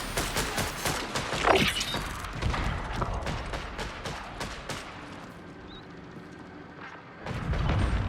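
Rapid gunfire and heavy thudding blasts from a frag grenade in a first-person shooter video game, dense and loud throughout, with a short lull before the shooting picks up again near the end.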